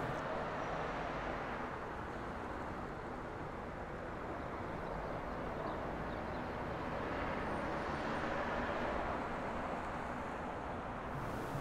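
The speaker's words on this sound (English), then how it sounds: "They're actually traffic sounds in animal sounds." Simulated city traffic in Tokyo within Microsoft Flight Simulator 2020: a steady, even wash of road and vehicle noise with a low rumble, carrying on at constant loudness throughout with no voices.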